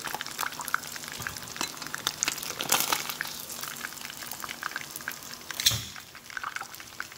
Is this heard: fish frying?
yes